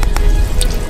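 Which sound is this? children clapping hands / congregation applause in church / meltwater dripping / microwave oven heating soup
meltwater dripping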